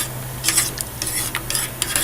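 Stuffed chicken frying in a pan while being turned, a steady close sizzle with brief clinks and scrapes of a utensil against the pan, no talking.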